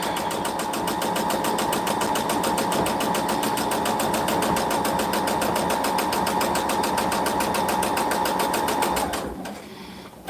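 A quilting sewing machine runs in a steady, fast, even mechanical whir for about nine seconds, loud and close, then winds down and stops near the end.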